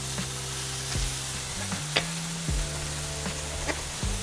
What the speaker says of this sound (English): I'm going to seal the top part